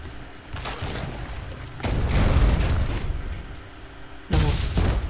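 Cannon blasts in the Roblox game Pirate Clash, three heavy booming shots with rumbling tails spread across a few seconds, loud and alone without talk.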